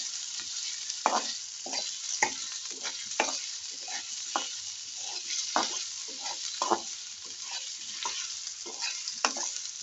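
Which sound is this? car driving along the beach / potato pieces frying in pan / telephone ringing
potato pieces frying in pan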